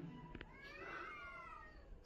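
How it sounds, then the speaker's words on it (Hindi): A cat meows with a long, rising-and-falling wail in a supposedly haunted palace, heard faintly against a hissing background with a couple of soft knocks. "अब आ रही बिल्लियों की आवाज"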